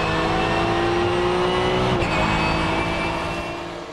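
Race cars in a Supercar Challenge round at Assen circuit roar past, a steady engine drone with a sharp pitch drop as one car goes by midway, then fading slightly toward the end.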